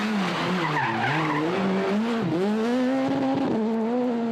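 A factory Skoda rally car on a Czech tarmac stage slides off the road, engine droning and rising and falling in pitch through the skid, loud and continuous with tyre scrub beneath.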